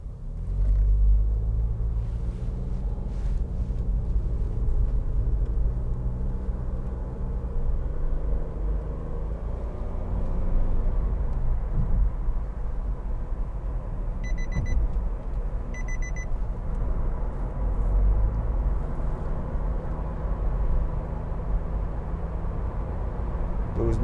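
A 2015 Nissan Note 1.2 DIG-S Tekna cruises on the motorway, a steady low engine and road rumble with constant tyre and wind noise, a faint double chime partway through.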